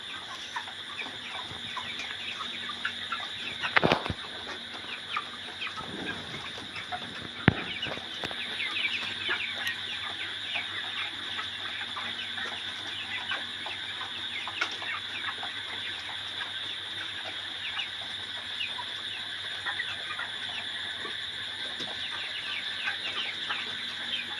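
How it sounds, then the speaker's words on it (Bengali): Many broiler chickens cluck steadily while feeding on a farm throughout a long stretch, a dense flock murmur with a couple of sharp knocks early on and no talking. "এখানে এখানে মুরগিগুলো খাচ্ছে কত সুন্দর"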